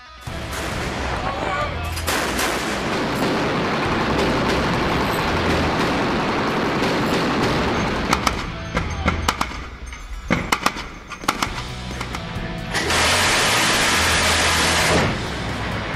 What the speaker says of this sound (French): le M242 Bushmaster est l'un des canons automatiques modernes les plus efficaces au monde